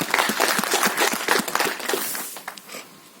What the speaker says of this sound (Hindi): मैं जोरदार तालियों से इनका स्वागत करता हूं